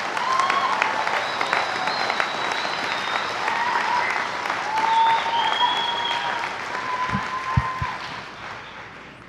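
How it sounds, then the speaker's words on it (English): A commencement ceremony audience applauds student speakers, a broad sustained roar of clapping with some cheering tones over it that swells midway, then tapers off, with a few loud thumps near the end. "let's give one more level of applause to all of our student speakers"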